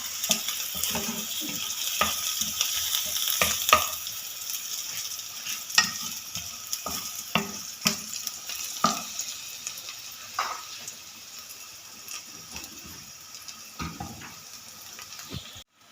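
Onions frying in a pan with ginger garlic paste on medium heat, a steady close sizzle with frequent stirring clatter and scraping throughout, no talk.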